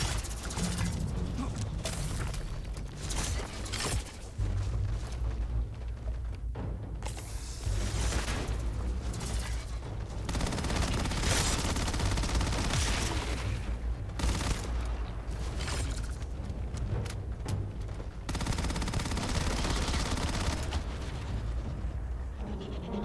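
Dense, continuous weapon fire from the sci-fi game Starfield during a fight with bandits, loud and dense, running almost unbroken with brief gaps between long bursts, and little talk over it.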